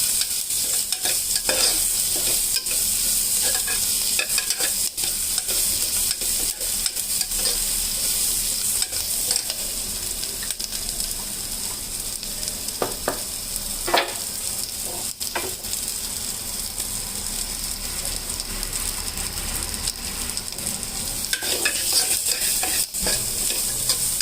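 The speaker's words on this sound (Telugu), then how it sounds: "వెల్లుల్లి మంచిగా వేగాలి. బాగా వేయవద్దు, మరీ ఎర్రగా వేగకుండా కాస్త వేగితే చాలు." Garlic fries in ghee with a constant, close crackling sizzle, accompanied by frequent stirring scrapes and clicks of a utensil against the pan.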